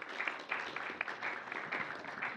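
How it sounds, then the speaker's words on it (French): At a data workshop during a film festival, a small audience applauds for a couple of seconds, fairly faint, with uneven, scattered claps. "On peut applaudir."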